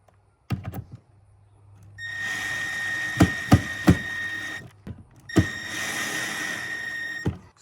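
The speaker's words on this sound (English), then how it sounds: "Now we will put 2 screws here." A power drill drives screws to mount a permanent Christmas light track, with two bursts of whirring motor separated by sharp knocks and clunks, close by and without speech.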